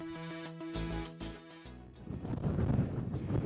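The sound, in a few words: strong wind at Wilcox Pass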